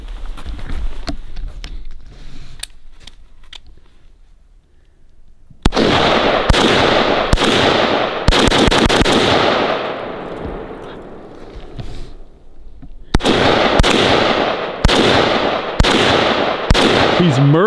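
Gunshots are fired outdoors toward a distant target: a few faint cracks at first, then loud, sharp reports in quick bursts and clusters, with brief pauses between them.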